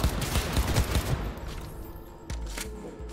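Heavy, rattling bursts of gunfire in the video game Cyberpunk 2077: a fast, loud volley over the first second or so, a lull, then a few sharper single shots toward the end.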